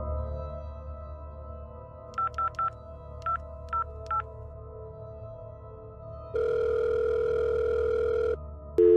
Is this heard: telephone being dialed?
yes